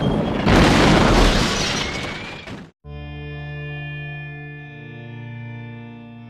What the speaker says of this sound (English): We now have footage of Cambodia as bombs fell from the sky.